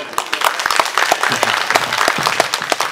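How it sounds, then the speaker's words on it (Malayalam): An audience at a residents' association Christmas and New Year celebration claps in a quick, crackling burst of many hands, sharp and close, with a few voices mixed in. "നിങ്ങൾക്ക് വേണ്ടി തന്നെ പടക്കം പൊട്ടണം പോലെ ഒരു കയ്യടിക്കാൻ"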